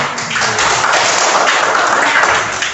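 Participants in a teacher coaching session give a dense, steady round of applause for the whole stretch. It is loud and washy, with a few faint voices beneath it.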